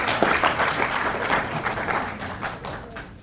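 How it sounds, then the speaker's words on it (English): An audience at a panel on faith, fidelity and culture breaks into applause, a sustained, dense clatter of many hands that gradually tapers off. "give yourselves a round of applause"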